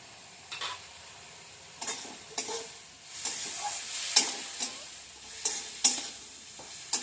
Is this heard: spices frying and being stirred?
yes